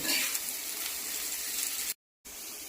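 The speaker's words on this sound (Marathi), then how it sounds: "आता तव्यामध्ये कारली फ्राय होत आहेत" Bitter gourd sizzles and hisses steadily as it fries in oil on a flat tawa, close and fairly loud, with a brief cut to silence near the end.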